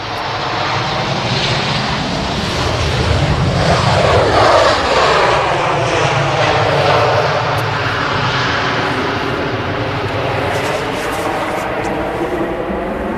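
An Emirates airliner arriving on runway 05R at Manchester Airport in the early morning, its loud engine roar sustained and sweeping as the aircraft passes close by.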